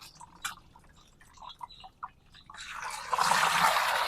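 Homemade liquid organic plant fertilizer is strained through a sieve. Faint scattered drips and small clinks give way to a steady, louder trickle of liquid in the second half.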